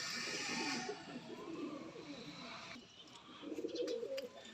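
Teddy pigeons coo in low, rolling murmurs close to the microphone, rising and fading over a couple of seconds against a faint background hiss.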